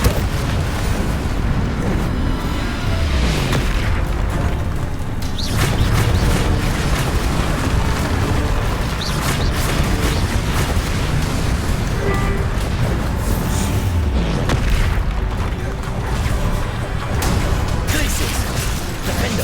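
Explosion spells Bombarda and Confringo in a Harry Potter video game, heavy booming blasts layered continuously over busy game noise, loud and sustained, with a voice shouting spell names throughout.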